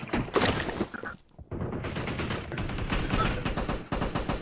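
Pistol fire in a video game cracks in quick repeated bursts, loud and dense, with a brief lull before more shots continue.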